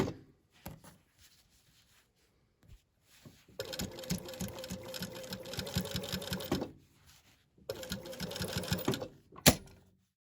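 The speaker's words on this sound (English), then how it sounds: "we are going to just close this binding up by stitching it through all the way along once again" A sewing machine stitches binding closed around the edge of a fabric hooded towel, running in two steady bursts of several seconds each with a short pause between. The stitching is close and loud with no talking.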